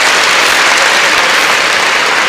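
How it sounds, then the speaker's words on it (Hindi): Audience applause at a motivational speech in a school institution hall, a steady continuous wash of many hands clapping, fairly loud and close, with no talk over it. "एक बार तालियां होनी चाहिए"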